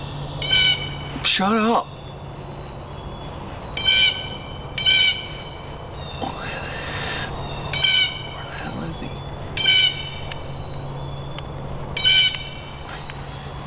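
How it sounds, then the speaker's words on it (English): Repeated loud bird squawks in short bursts every couple of seconds outdoors during a Michigan turkey hunt, with a steady low hum underneath and a person speaking briefly near the start. "bird is annoying."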